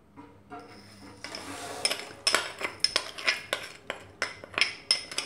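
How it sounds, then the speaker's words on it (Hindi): A spoon stirs sugar into hot milk in a pot for shahi thandai, ringing in a run of sharp, fairly close metallic clinks and scrapes against the pan, speeding into a steady rhythm with no talk. "और इसे अच्छे से मिक्स कर लेंगे"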